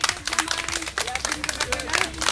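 An audience at a public event applauds a child with steady, dense clapping, while voices talk over the applause throughout.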